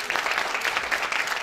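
A dialogue audience gives its panelists a brief burst of steady, moderately loud applause, with many hands clapping evenly at a slight distance.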